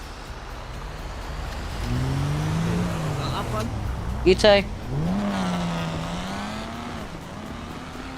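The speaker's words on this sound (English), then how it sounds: "That car does actually sound quite good. I know that's the S205, but it does sound quite good." Engine of a Mercedes S205 driven in a GTA roleplay game, a steady low drone that rises and falls with revs through the clip, with brief talk over it.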